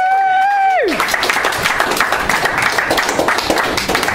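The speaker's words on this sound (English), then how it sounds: "Now come on, keep applauding to them at the microphone." Open mic audience in Berlin bursting into loud, sustained applause and clapping after a short sung or spoken tone, with scattered cheers through the crowd.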